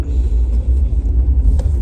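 Steady low engine rumble from inside a moving car, loud and continuous with small fluctuations, no talking.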